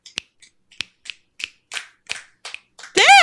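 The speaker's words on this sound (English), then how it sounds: "Listen to our snaps." About nine sharp, crisp finger snaps land at an uneven pace, each one loud and distinct against silence, followed by a burst of loud, high-pitched laughter or shouting.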